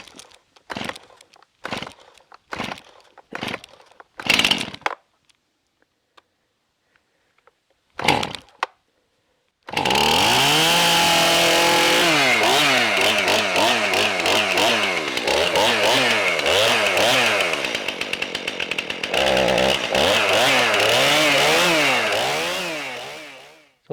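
A Stihl MS271 Farm Boss 50cc gas chainsaw takes several sharp pull-cord tugs before firing up, then idles and revs loudly with fluctuating engine pitch, close by.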